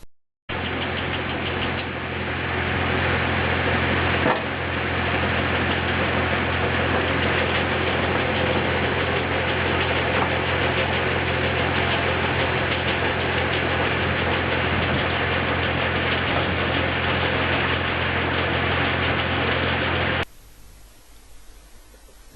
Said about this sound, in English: we are now cutting a 3-inch slab